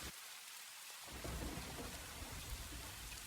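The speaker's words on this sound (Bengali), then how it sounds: "বৃষ্টি তো পড়েই যাচ্ছে, থামার আর কোনো নামগন্ধ নেই" Steady rain pours down in a storm as a deep roll of thunder breaks in after a second and rumbles on beneath the dense hiss of falling drops, with no voices.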